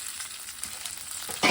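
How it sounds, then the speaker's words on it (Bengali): Bay leaves and cumin seeds crackle in hot oil for a Bengali fish curry with pointed gourd, a steady close sizzle with a louder burst of spitting at the end, no voices. "তেজপাতা ফোড়ন দেব, এর মধ্যে জিরা দেব, জিরা তেজপাতার মধ্যে দিয়ে দিয়েছি"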